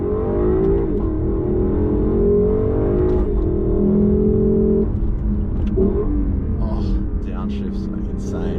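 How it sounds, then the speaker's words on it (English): A 2020 Lexus LC 500 engine accelerates and downshifts, a loud steady rumble rising and dropping in pitch, close by, with people speaking over it. "the downshifts, the acceleration noises it makes are just amazing"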